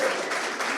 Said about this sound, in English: So I just said, like, another round of applause, because I'm super grateful.